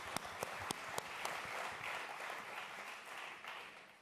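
Scattered audience clapping at a live fireside talk, a few sharp individual claps at first that swell into brief, faint general applause before trailing off.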